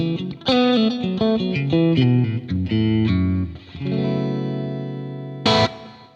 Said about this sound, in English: I'm going to turn on the delay and the reverb that I've programmed